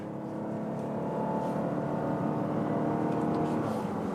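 Engine drone heard from inside a Lexus LBX hybrid: a steady, moderately loud hum with a faint whirring tone that swells slightly as it goes, under road noise, with no talking.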